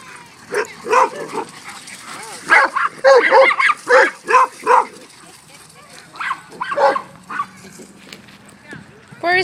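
Dogs playing at a dog park, giving short yips and barks mixed with playful growls, close by, while a person talks excitedly over them.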